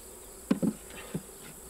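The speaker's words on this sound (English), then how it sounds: "You probably notice how gentle my bees are, and they are an Italian Carnolian hybrid." Italian Carniolan hybrid honeybees buzz at a farm hive, with a few short, close buzzing passes, one doubled, rising over a faint background hum and then fading.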